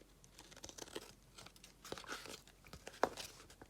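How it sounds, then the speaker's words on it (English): Paper is cut and trimmed while decorating an oversized envelope, giving faint, close crinkling and snipping rustles, with a slightly sharper crackle near the end and no speech. "I'll cut this off."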